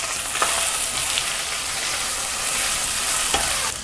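Three large onions fry in hot oil for coconut milk brinji, giving a loud, continuous sizzle with a couple of faint stirring knocks.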